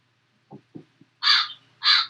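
A crow outdoors gives two loud, harsh caws close together near the end, each lasting about a quarter second, after a few faint, soft low sounds over a quiet background.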